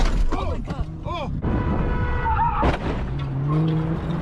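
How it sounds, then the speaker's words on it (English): A car speeds in and slams into the back of someone, with tire squeal, mechanical creaks and a crunching impact amid overlapping, noisy street sounds. "So what, a car just like full slammed in the back of him?"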